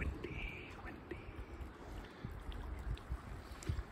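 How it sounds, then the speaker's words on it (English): Strong wind on the Middle Sister mountain, gusting and buffeting against the microphone in low, uneven rumbles over a few seconds. "it's so windy. Super windy."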